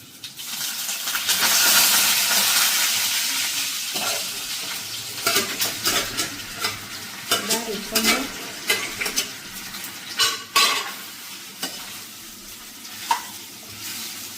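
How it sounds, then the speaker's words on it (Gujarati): Small cut dhokla pieces tempered in a pan of oil with mustard seeds and cumin, a loud hiss swelling at first, then repeated close spoon scrapes and clinks against the pan over a lingering sizzle. "તો હવે મમ્મી વઘારશે ઢોકળા."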